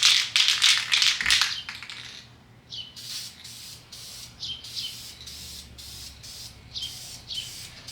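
An aerosol can lays a light second coat of paint on an S-curve in quick hissing bursts, first a dense run of short sprays, then evenly spaced single puffs, close and alone.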